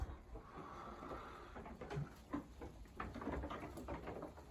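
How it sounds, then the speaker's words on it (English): Heavy rain pattering on the roof of a camping pod in the Lakes, a steady dense drumming with scattered louder drops, heard from inside, no talking. "I don't know if you can actually hear the rain hitting the roof, but it's absolutely bouncing down"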